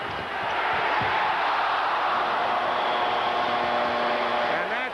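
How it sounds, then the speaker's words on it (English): A steady, roaring crowd of basketball fans cheers at a 1984 Knicks–Pistons NBA game as the first half runs out, a dense wall of noise that holds at full strength throughout. "And the fans cheering as it winds down to 8 seconds."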